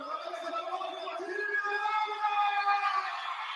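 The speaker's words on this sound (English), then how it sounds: "The crowd getting into this one, as you would expect, when the relays are on at the CARIFTA Games." Crowd at the CARIFTA Games athletics relays, a steady roar of cheering and whooping from a large stadium audience, continuous and fairly loud throughout, with sustained voices rising slightly toward the end.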